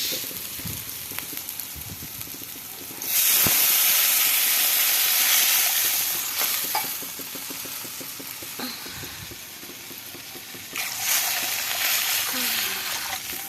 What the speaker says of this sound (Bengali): এবারে এটার সঙ্গে জলটা অ্যাড করবো বেশি পরিমাণে জল দেবো